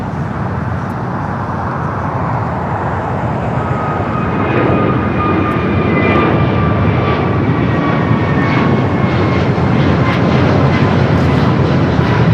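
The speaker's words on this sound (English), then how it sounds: "Dreamliner. Your next heavy arrival there on the north side." A Boeing 787-9 Dreamliner heavy jet arrives on the north side runway at LAX. Its loud, continuous engine roar holds steady throughout, with a faint whine rising over it midway.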